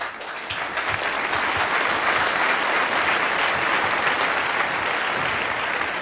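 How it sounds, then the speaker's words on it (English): An audience at an awards ceremony for mobile industry figures applauds, with sustained, dense clapping from a large crowd that holds steady and loud for several seconds, filling the room with no voices heard. "Big round of applause."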